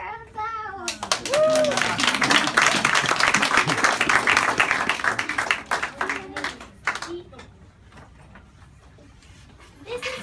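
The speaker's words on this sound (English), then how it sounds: "Let's give her a applause." Applause from a school expo audience, a dense burst of many hands clapping that swells quickly, holds for several seconds, then thins out into scattered claps, with children's voices before and after.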